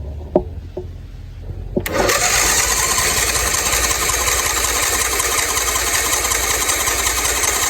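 A John Deere LT166 lawn tractor engine cranks, with a few faint clicks before it turns over into a loud, continuous whirring drone that holds steady up close.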